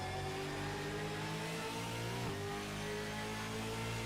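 A V8 race car engine in a sim racing game holds a steady high rev with the clutch in, a sharp brief dip midway before the drone resumes, faint and alone with no talk.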